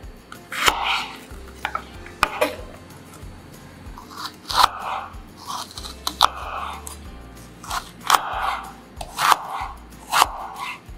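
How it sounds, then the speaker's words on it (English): A knife slicing celery on a cutting board at an angle, giving a series of crisp, irregular chopping taps, close and fairly loud, over quiet background noise. "Cut it in half and slice 45-degree angle and 1/4 cm thick."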